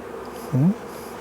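A close honey bee buzz rises briefly in pitch over a soft, continuous hum of many bees in an open hive.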